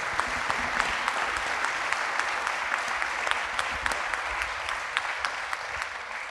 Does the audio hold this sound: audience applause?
yes